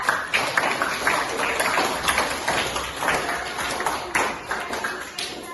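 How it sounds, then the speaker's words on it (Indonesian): Classroom applause for a group of students, a modest patter of clapping that runs steadily for several seconds at moderate distance with a soft background hiss. "Beri tepuk tangan untuk kelompok 2"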